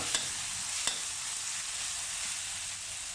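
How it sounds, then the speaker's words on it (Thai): Chili and garlic stir-fried in a pan give a steady, close hiss of frying with a couple of sharp utensil taps early on, continuous and without talking. "ผัดพริกกระเทียมให้พอหอมนะพี่น้อง"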